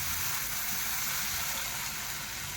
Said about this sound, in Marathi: यासोबतच आपण भिजवलेले कोकमाचे पाणी ॲड करू